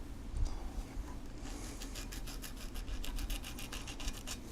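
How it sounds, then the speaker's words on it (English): A sanding stick rubbing away a small leftover edge on cut plastic, a faint, close, steady scratchy rasp, speeding into quick rhythmic back-and-forth strokes toward the end. "you can actually just use your sanding stick here and get rid of that little edge"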